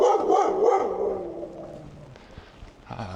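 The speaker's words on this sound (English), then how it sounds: "Ah, lovely dog." A dog barks several times in quick succession on a street in Yerevan, Armenia, loud and close at first, then quieter city noise follows.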